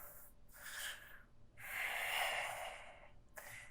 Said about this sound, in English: Slow breathing through the nose.